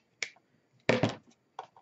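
Scissors snip through ribbon tied around a bakery box holding pumpkin pie slices: a light snip, then a louder double cut and a final short snip, close and crisp in a quiet room.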